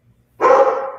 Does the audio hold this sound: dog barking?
yes